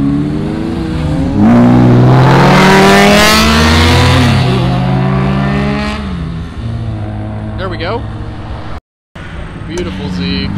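An Acura TL Type S sweeps past at a cars and coffee meet in Fairfield, Ohio, its engine note rising loudly, then fading, with bystanders talking over it.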